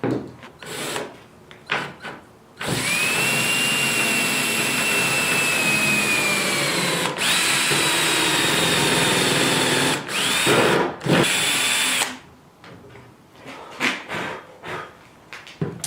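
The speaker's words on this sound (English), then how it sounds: "I'm using a countersinking bit, that way the head of my screw will be inside" A power drill with a countersinking bit whines steadily as it bores into a wooden board, running for several seconds with a brief pause, then winding down amid handling noises.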